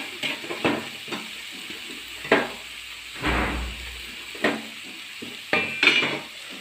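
Chopped garlic being stirred in a frying pan with oil, giving scraping spoon strokes against the pan and soft sizzling, several distinct stirs in an irregular rhythm, close and moderately loud.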